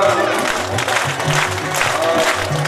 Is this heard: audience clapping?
yes